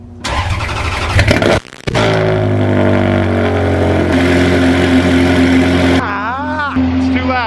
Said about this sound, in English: we're no longer allowed to start this car during business hours. That's how loud it is.